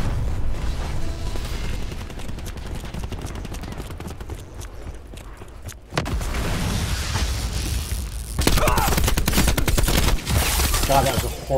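Bursts of gunfire from the first-person shooter Black Ops 4, rapid dense shots and mechanical clatter with a quieter stretch in the middle, then loud firing returning in the later part.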